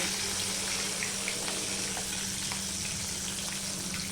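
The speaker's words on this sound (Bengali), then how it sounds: "একদম হালকা করে ভাজবো" Hilsa fish frying lightly in hot oil, a steady soft sizzle with small scattered crackles and a low constant hum beneath, close and fairly quiet, with no talking.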